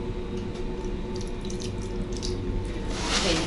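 Water runs steadily from a tap into a sink, a continuous close hiss and splash that swells slightly near the end; no talking.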